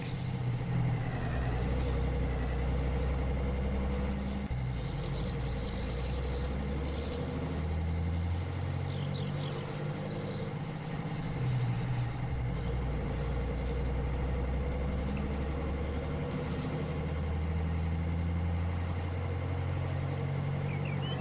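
A truck engine in a farming video game drones steadily while driving, a continuous low rumble with a mid-range hum that holds evenly throughout, no voices over it.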